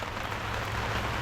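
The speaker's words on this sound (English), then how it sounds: "Sorry about the rain noise, guys." Steady rain falls outdoors during work on a Ford 7.3L Powerstroke truck, a loud continuous hiss of drops pattering on surfaces with no pauses and no voices.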